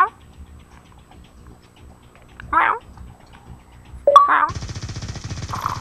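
A person imitates a cat's meow with a short vocal call during a Call of Duty: Black Ops 2 session with friends, close to the mic amid light game sounds and chatter.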